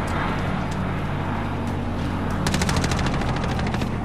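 Gunfire crackles in a plunder-mode shooter game: steady background noise, then a rapid automatic burst of evenly spaced shots near the end, loud and close.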